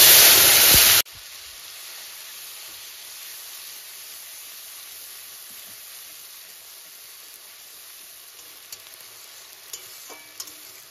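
A ground spice paste hits hot oil already holding nigella seeds, bursting into a loud, close sizzle for a moment before settling into a low, steady frying hiss with a few faint pops.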